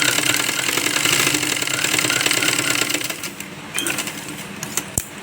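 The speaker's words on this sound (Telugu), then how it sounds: "రెండు కుట్లు వేసుకుంటాం." A sewing machine runs close up, stitching blouse lining in a fast, steady mechanical chatter for about three seconds, then slows to a few short bursts and a sharp click.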